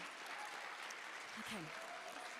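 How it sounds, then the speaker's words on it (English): Steady audience applause for conference panelists continues throughout, an even wash of clapping with a brief voice or tone surfacing faintly in the middle. "If we could give another round of applause."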